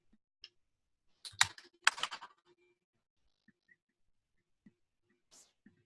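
Quick keystrokes on a computer keyboard while entering size values in 3D scaffold design software, two short bursts of clicks close up, then a few sparse isolated taps in a quiet room.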